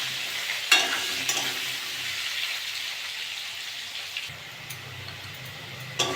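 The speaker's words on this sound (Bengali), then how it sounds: "আলুগুলো ভালো করে ভেজে নেব।" Potato pieces with salt and turmeric fry in hot oil in a pan, giving a steady close sizzle with occasional sharp scrapes of stirring, and no talk.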